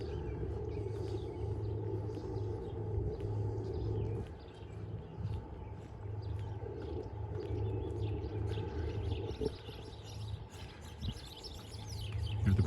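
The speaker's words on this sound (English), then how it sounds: "Hear the birds." Birds sing and chirp along a creek on a spring walk, several small calls scattered over a steady low background hum, faint to moderate and without voices.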